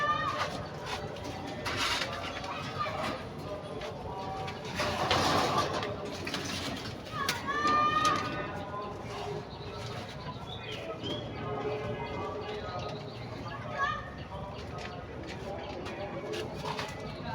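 Pigeons coo softly in a loft, a faint, steady murmur of calls under low background noise and occasional rustling.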